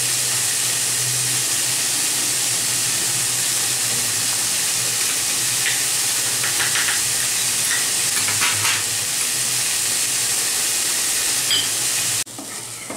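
A paste of ginger, turmeric, coriander and cumin fries in a pan for a vegetarian drumstick and moong dal dish, a loud, steady hiss and sizzle with faint stirring scrapes, cutting off abruptly near the end.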